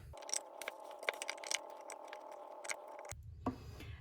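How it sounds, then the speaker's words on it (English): Scissors snipping lampshade fabric near a utility ring, a quiet run of small crisp cuts and rustles close by, with a faint background hum. "So make a little slice down there, so the fabric is going to go around the utility ring."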